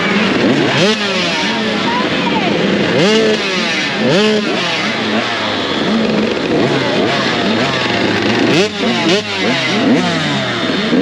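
Motocross bikes rev and race at the Washougal pro national, a loud, continuous snarl of overlapping two-stroke and four-stroke engines rising and falling in pitch as riders pass close by, with voices faintly beneath.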